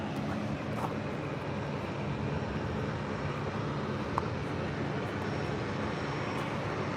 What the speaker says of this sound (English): presumably just because there's another aircraft due in